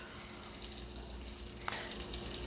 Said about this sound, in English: There's a little sizzle